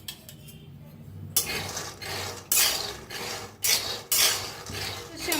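Half a kilo of peanuts dry-roasting in a pan, stirred with a utensil that scrapes and rattles against the metal in bursts, with grainy rustling between the strokes, close and clear.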